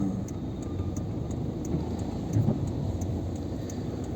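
A car pulls away from an expressway toll plaza on the Mumbai-Pune route with a steady, muffled engine drone and road rumble heard from inside, plus a faint, regular ticking.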